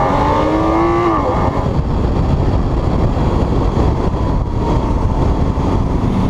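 A Lamborghini Aventador Roadster's engine in Corsa mode revs loud and close, a rising note peaking early and then settling into a dense, roaring drone that continues to the end.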